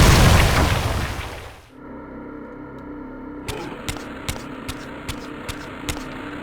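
A heavy explosion booms in the video game Soul Reaver 2, rumbling loudly and fading over about two seconds, followed by a low hum and a few soft, regular clicking game sounds.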